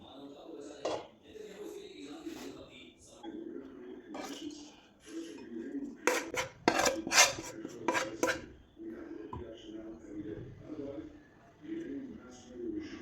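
Fried mussels are moved from a pan onto a serving plate with metal utensils, making scraping, clinking and rubbing noises, with a cluster of sharper clatters midway.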